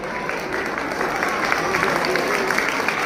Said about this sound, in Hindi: इनके लिए टीचर्स के लिए भी जोरदार तालियां बजाइए